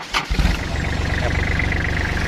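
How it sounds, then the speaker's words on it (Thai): A diesel pickup engine, glow plugs preheated about five seconds on a morning start, cranks briefly and catches, then settles into a steady, loud, close rumbling idle. "เครื่องยนต์ก็สตาร์ท ช่วงเช้าๆก็จะได้เผาหัวประมาณ5วิครับ"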